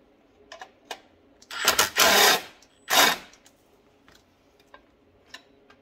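Bolts being started and tightened on a Honda XR80 engine with a ratchet or wrench: a few light metallic ticks, then two loud raspy bursts of clicking, followed by scattered soft taps.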